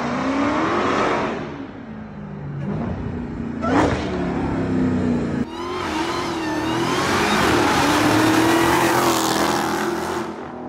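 Honda Accord with a swapped Hellcat engine, straight piped with long tube headers, a cam and an E85 tune, revs hard in loud repeated bursts that rise and fall, then holds a sustained roaring pull, close and alone.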